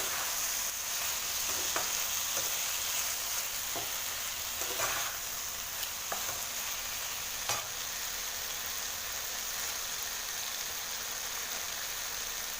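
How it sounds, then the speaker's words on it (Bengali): Mixed vegetables for a vegetarian snack frying in a pan while being stirred, a steady broadband sizzle throughout with occasional scraping clicks of the spoon against the pan. "এটা খুব ভালো করে এবার নাড়াচাড়া করবো"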